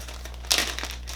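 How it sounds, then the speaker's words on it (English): Plastic bag crinkling close up while a Congo CET121 tube expansion tool kit is unpacked, a steady rustle swelling into a louder burst of crackling midway, with no talk. "plastic bag."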